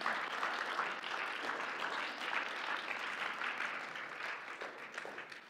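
Church congregation standing and clapping their hands in praise, a dense, sustained wash of applause from many people at moderate loudness, fading slightly toward the end.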